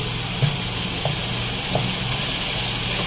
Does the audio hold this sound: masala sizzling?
yes